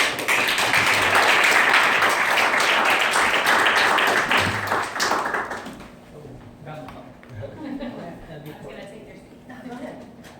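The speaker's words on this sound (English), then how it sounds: "Everybody give a round of applause for Charnalino." A poetry slam audience at Loser Slam in Red Bank applauds a poet, with loud, dense clapping for about six seconds before it fades and a voice begins talking over scattered remaining claps.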